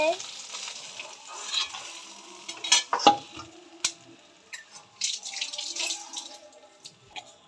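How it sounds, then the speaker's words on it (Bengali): Fish frying in hot mustard oil, sizzling steadily with bursts of spatter and several louder scraping stirs of a spatula in the pan, close by, with no talking. "মায়ের মাছ ভাজা হয়ে গেছে"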